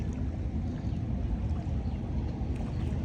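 A boat moves across a river, giving a steady dense rumble of engine and water wash, constant and fairly close with no voices.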